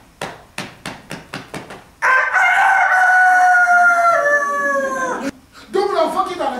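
A rooster crows loudly and alone in a long, sustained cock-a-doodle-doo, preceded by a rapid series of sharp rhythmic knocks and followed by a brief trailing call.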